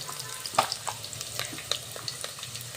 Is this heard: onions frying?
yes